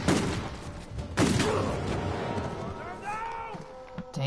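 An enemy fires a shotgun in a shooter video game, with sharp blasts near the start and again about a second later amid busy combat noise, while someone talks over it.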